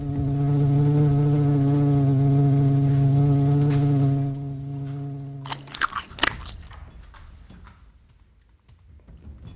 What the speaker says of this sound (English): You just really chomp down on it.